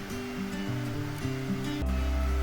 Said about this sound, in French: استمر في الخلط بالخلاط الكهربائي حتى نتحصل على الكريمة